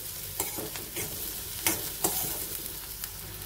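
Chopped onion sautéing in a pan for a Maharashtrian tandulsa greens bhaji, with a low steady sizzle and a few sharp scraping stirs of a spoon against the pan at irregular intervals, close by with no talk.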